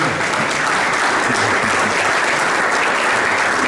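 Loud, sustained applause from a large crowd, a dense steady clatter of many hands clapping throughout with no pauses.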